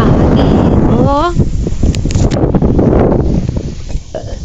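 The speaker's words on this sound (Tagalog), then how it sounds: "Ang lakas ng hangin." Strong cold wind blowing outdoors, a loud, continuous roaring buffet across the microphone that barely lets up, with a brief voice rising through it.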